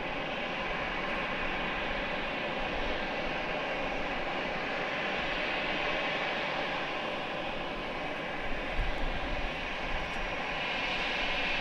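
Airliner landing at San Diego airport at twilight, a steady, loud, broadband engine roar that holds throughout with no voices.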